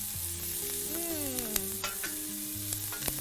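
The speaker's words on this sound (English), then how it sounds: "Give this a little stir. So you want to fry this until all that beautiful like ginger and garlic and onion, all those smells come up" Ginger, garlic and onion stir-fry in a pan, a steady close sizzle with scraping stir strokes and a few light clicks of the utensil, no talk.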